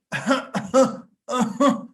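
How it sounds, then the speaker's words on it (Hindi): A few rough, throaty coughs in two short bursts separated by a brief pause, close and fairly loud. "खांसी कर रहे हो।"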